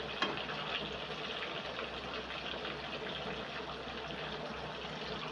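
Fish are washed in water during cooking for a fish curry, a quiet steady splashing and trickling of liquid with faint background noise.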